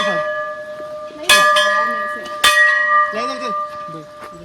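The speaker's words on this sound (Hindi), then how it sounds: "घंटी को बेल बोलते हैं" A temple bell rings twice, sharp metallic strikes with a lingering hum, while voices talk around them, at a mountain temple in Uttarakhand.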